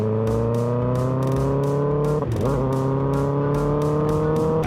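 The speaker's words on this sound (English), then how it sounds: "So Triumph 3-cylinder is like really amazing sounding bikes." A Triumph Street Triple three-cylinder motorcycle engine, heard up close, holds a strong rising drone as it accelerates through gears, with a brief dip around a shift midway, loud and continuous with no talking.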